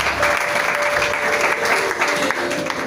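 Congregation in a church clapping and cheering in praise of God, a steady, dense wash of applause carrying through the whole span with a faint tone held above it.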